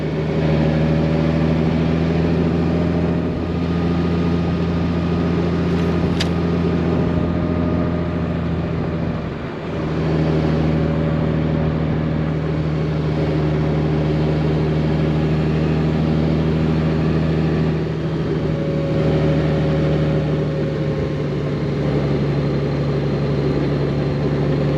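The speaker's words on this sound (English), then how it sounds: "I guess we'll wait and see how much more the engine starts to grunt as we get closer to the top." A 2021 Honda Goldwing Tour DCT motorcycle engine drones steadily as it climbs toward the 14,000-foot summit of Mount Evans. The tone is constant and harmonic, with a loud hum and brief dips where the engine note eases. No one speaks.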